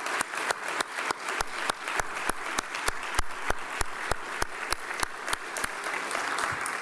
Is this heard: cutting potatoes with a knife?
no